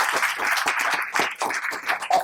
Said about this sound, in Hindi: I think we can give them a bigger hand.